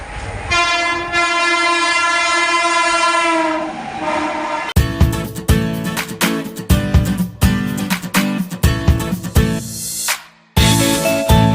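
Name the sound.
through train passing a station platform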